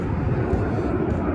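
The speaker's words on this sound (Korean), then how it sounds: "비행기 리얼합니다." An airplane passes over Sinwol Park in Yangcheon-gu, a loud, steady broadband engine roar filling the whole moment without any voices.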